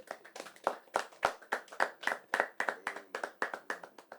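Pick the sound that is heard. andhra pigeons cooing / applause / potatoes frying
applause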